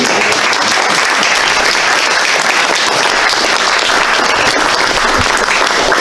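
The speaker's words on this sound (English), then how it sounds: "Let's get another round of applause for our" Loud, sustained applause fills a hall from a large audience at a Veterans Day program after a school band and choir perform, a continuous wash of clapping.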